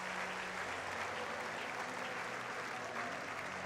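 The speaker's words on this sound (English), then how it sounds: "Crowd giving him a round of applause." Steady, sustained clapping from a college baseball crowd at the Minnesota versus Oregon State game, saluting a departing pitcher; the applause stays even and full throughout with a faint murmur underneath.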